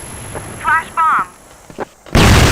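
A flash bomb goes off in a video game. Two short warbling tones come first, then a sudden loud, broad burst that fills the end of the clip.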